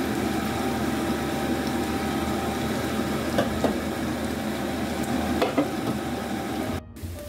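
Onion sizzles steadily in a pan with the same fat used for pork loin, a close continuous crackling hiss with a few faint clinks and no talking.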